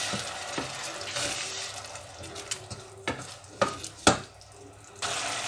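A splash of water hits a frying masala of ginger and spices for aloo palak, setting off a steady sizzle with scraping stirs and a few sharper clinks, close and moderately loud.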